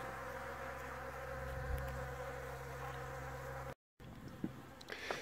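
A steady, dense hum of many honeybees buzzing close by at an open syrup feeder in cool weather, continuous and droning, broken by a short gap and then a few louder passing buzzes.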